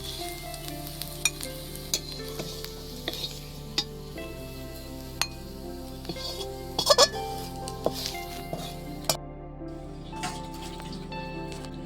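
Catla fish frying in a pan, a steady close sizzle with scattered clicks and pops, a louder burst of spitting near the middle, no talk.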